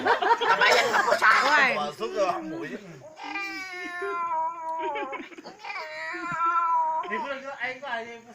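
A cat meows repeatedly up close, long drawn-out wavering cries with short pauses between them, loud and insistent.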